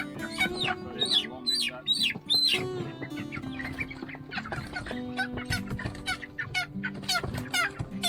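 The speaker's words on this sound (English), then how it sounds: "these are female meat birds" Female meat-bird chickens being moved to a covered container cluck and chatter close by, with sharp high calls and overlapping low clucks continuing throughout.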